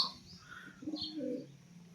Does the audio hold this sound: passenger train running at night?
no